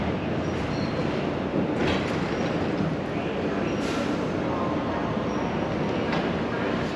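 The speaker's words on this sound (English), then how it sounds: "so I'm just waiting for the train." An airport shuttle train to Gate A rolls in with a steady loud rumble of wheels and rails, a few faint clicks and door-like hisses over the continuous noise, without talk.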